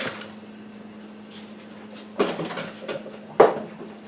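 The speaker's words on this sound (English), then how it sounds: "get my cutters out of there" Biscuit cutters are pulled from a kitchen drawer or container while making old-fashioned Southern buttermilk biscuits: two sharp clatters of metal and a knock, nearby and fairly loud, over a faint steady hum.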